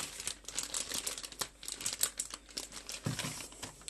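A plastic piping bag crinkles and rustles as it is filled with white buttercream for cake decorating, a close, busy patter of crackling crinkles with no talking.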